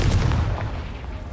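A Confringo explosion spell fired in the Hogwarts Legacy video game, a loud booming blast with a heavy low rumble that fades over about a second, with no talk.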